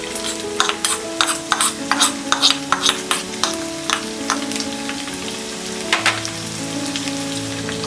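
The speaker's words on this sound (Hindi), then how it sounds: "अब हम इसमें डालेंगे ये अनियंस" Onions drop into hot ghee and fry with a steady sizzle, while a spoon scrapes and stirs the pan in repeated sharp strokes, close and loud with no talk.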